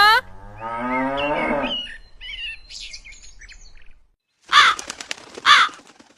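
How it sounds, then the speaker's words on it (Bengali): A cartoon cow bellows a long, loud moo from hunger near the start, followed by quieter rustling and then two sharp crow caws. "ওইদিকে যে গরুটা খিদের জ্বালায় চেঁচাচ্ছে"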